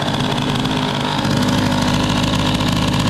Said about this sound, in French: on va démarrer la pétoire, vite fait, et on va voir comment ça répond au coup de gaz